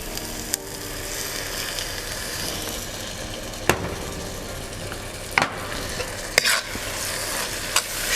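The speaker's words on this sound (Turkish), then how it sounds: "Şöyle bir karıştırıyorum." Caponata is stirred in a frying pan with honey and balsamic vinegar added, a continuous close sizzle with a few sharp utensil scrapes and knocks against the pan.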